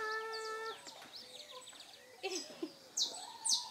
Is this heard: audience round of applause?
no